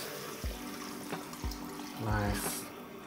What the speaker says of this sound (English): And then I'll add a bowl of water.